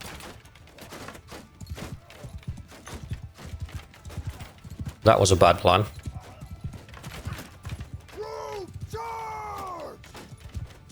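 Horses in Mount & Blade II: Bannerlord, with hoofbeats clattering under a battle din, a close burst of clashing noise midway, then two rising whinnies near the end, while someone talks over it.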